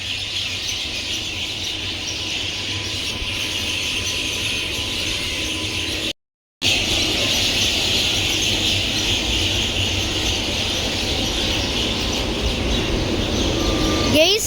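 A steady, loud drone of a WAP-7 electric locomotive from Krishnarajapuram loco shed idling at a station platform, with a high squealing whine and busy platform noise throughout, briefly cut off midway.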